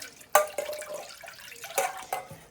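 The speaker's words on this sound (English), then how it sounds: "what I'm going to do now is add some water to it" Half a pint of water is poured over dhal in a Remoska cooker, a few sharp splashes followed by softer trickling and dripping, close and fairly quiet.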